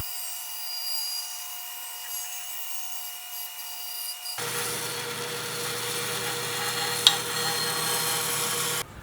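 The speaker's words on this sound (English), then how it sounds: "use the circle jig again and turn this into a circle" A power saw on a circle jig whines quietly, then bites into wood, cutting it into a circle with a loud, steady roar that continues for several seconds before stopping abruptly.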